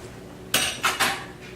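A large metal roasting pan knocks and clanks three times in quick succession in a kitchen, close and bright with short ringing tails.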